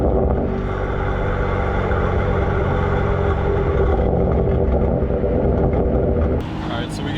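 A BMW F80 M3 with a stage 2 tune rumbles loudly and continuously up close, exhaust crackle and burble layered over a dense engine roar, ending in a few sharper pops.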